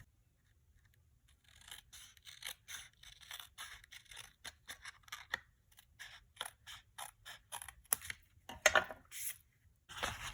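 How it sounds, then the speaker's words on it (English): Hand snips trim a paper card in a quiet room, giving a series of small, close, crisp snipping clicks in an irregular rhythm that grows slightly louder toward the end. "I'm just going to use my snips and I'm going to trim that slightly"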